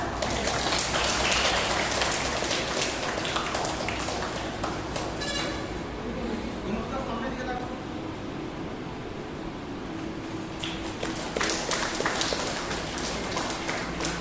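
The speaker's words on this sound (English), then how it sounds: "Let's have a huge round of applause for Ma'am." Audience at a school Founder's and Parents' Day celebration breaks into sustained applause, a thick wash of clapping that dips slightly in the middle and swells again toward the end.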